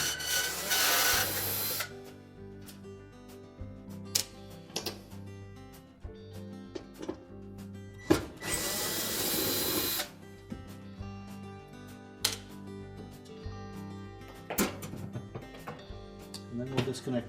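Screws being removed from a Whirlpool range oven's broil element at the oven liner, with scattered metallic clicks, a few brief bursts of tool whirring and scraping, and someone talking.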